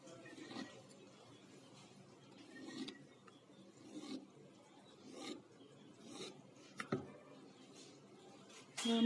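A knife cuts through rolled sweet sev dough with soft, spaced scraping strokes against the board. Each cut is brief and fairly quiet, with small taps between cuts.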